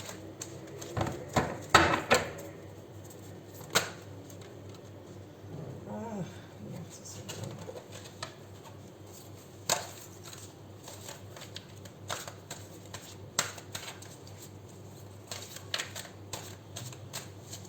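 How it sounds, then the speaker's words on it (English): Large tarot cards are shuffled in the hands, producing bursts of riffling and sharp flicks, loudest early then softer intermittent snaps, with a faint voice briefly in the background. "It's difficult to shuffle these cards."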